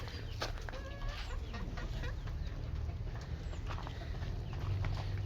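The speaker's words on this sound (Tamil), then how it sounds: "கோழியும் வளர்த்திக்கலாம் பாருங்கள் கோழி தெரியுது" Chickens cluck and chatter in soft, overlapping bursts over a constant low rumble of background noise, with no speech.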